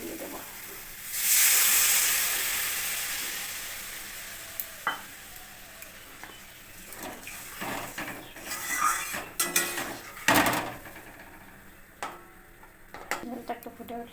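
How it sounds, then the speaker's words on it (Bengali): Mustard-laced mango pickle syrup bubbling and sizzling in a pan, with a loud hiss early on, then scattered stirring scrapes and clinks of utensils against the pot. "বন্ধুরা ঝোলটা ফুটে গেছে"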